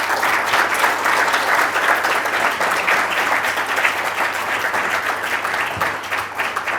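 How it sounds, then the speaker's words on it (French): Audience at a Cannes conference applauding a speaker's arrival, a steady, dense wash of many hands clapping close and loud, sustained without a break and with no talk over it. "la venue de Bruno Le Maire, que je vous remercie encore une fois d'applaudir"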